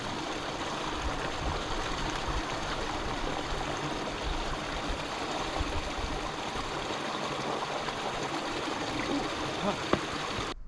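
A stream in Kings Canyon National Park flowing strongly, giving a constant, full rush of water that holds steady and close without a break.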